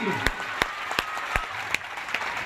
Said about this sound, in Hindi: जोरदार ताली के लिए